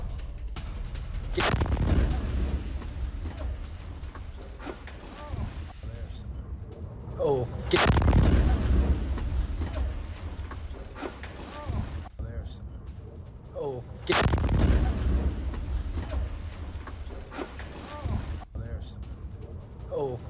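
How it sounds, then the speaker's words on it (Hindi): Missile strikes on a US military base in the Middle East, heard as three heavy, booming blasts spaced several seconds apart, each followed by rumbling decay, over continuous background noise. "मिडिल ईस्ट में अमेरिकी बेस पर मिसाइल अटैक"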